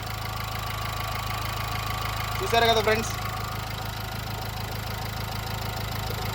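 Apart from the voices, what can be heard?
diesel car engine idling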